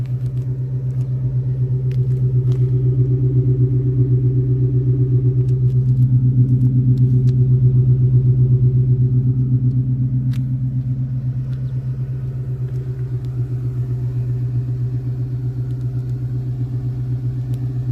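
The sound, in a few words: V8 car idling with exhaust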